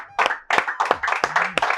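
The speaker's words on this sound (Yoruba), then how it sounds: "ẹ bá mi pàtẹ́wọ́ fún bàbá mi ẹ bá mi pàtẹ́wọ́" Game show audience clapping in short uneven bursts, several sharp rounds of hands close and loud, each swelling then dropping briefly before the next.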